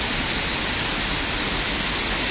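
Nam Nuan waterfall in northern Laos, a small but high fall, produces a steady, dense rush of falling water that holds an even level throughout, with no voices.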